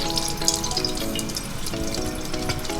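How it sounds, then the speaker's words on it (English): Water runs steadily into a container as the first step of making oatmeal milk, a continuous close splashing wash with no talk over it. "First, let's get some water."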